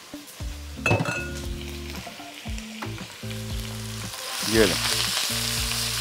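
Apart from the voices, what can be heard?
chicken cubes frying in cooking oil in a pan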